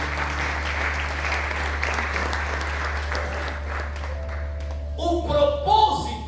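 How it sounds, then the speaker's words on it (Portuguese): A church congregation claps during a sermon, steady crowd applause that fades after a few seconds as a voice begins speaking over the end. "Podemos aplaudir e glorificar o Senhor."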